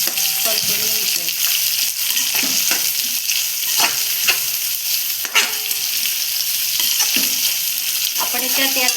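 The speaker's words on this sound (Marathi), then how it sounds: "टोमॅटो, हे पण छान असं परतून घ्यायचं." Tomatoes sautéing in hot oil for jackfruit biryani sizzle loudly up close, broken by repeated scrapes and clinks of a spoon stirring against the pan.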